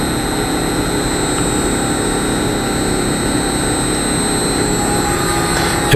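Electric motor driving a pump in a level-control setup, a steady loud mechanical hum with a constant tonal whine, unchanging and uninterrupted throughout, no voices.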